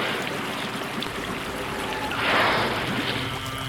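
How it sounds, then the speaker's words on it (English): Waves wash against an Arctic shoreline in a broad, continuous rushing hiss, building into one louder surge near the end before easing back. "the sound of waves hitting the shore blends with the flight of seabirds"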